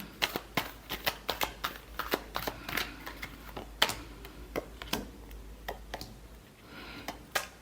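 Tarot cards being shuffled by hand, giving quiet, irregular papery clicks and soft riffles in close succession, with no voices.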